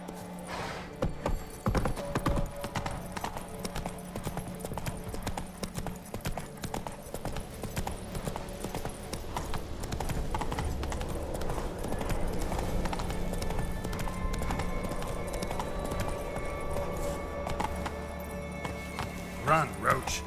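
Roach, a horse in The Witcher 3: Wild Hunt video game, galloping hard with a steady, loud drumming of hoofbeats that runs throughout, over game ambience and swelling music.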